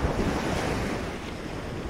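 Ocean waves washing onto a beach, a loud, continuous roar of surf mixed with heavy wind buffeting the microphone, steady throughout with no voices.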